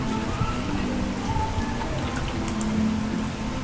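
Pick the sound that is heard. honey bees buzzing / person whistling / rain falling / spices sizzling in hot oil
rain falling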